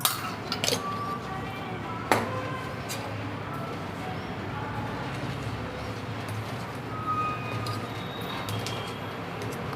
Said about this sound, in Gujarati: આપણે બધું હલાવી લેશું મિક્સ કરી લેવાનું છે